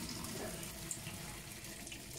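Cold tap water runs steadily onto blanched gnocchi in a kitchen while they are being cooled, a soft continuous splashing stream close by with no talk.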